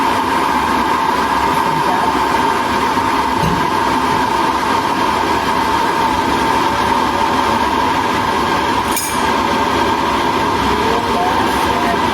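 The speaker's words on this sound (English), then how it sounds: "By the way, what you're hearing is the kettle." An electric kettle heating water gives off a steady, rushing hum with a faint whine, constant and unbroken throughout.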